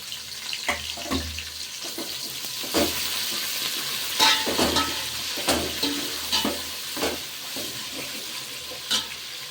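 Onions and green chillies frying in a pan for bagara rice, a steady close sizzle broken by scraping stirs and clatters at irregular intervals, with no talk.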